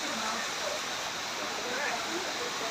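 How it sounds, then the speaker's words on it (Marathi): A large, fast-flowing waterfall on the Kedarnath route roars in a constant broad rush, with faint voices in the background. "तुम्ही पाहू शकता हा वॉटरफॉल किती मोठं आहे आणि किती स्पीडला पाणी वाहतोय"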